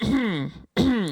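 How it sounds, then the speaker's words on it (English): Two short, close-up throat clearings, each a rough voiced rasp in a quiet setting, separated by a brief gap. "Why are you clearing your throat?"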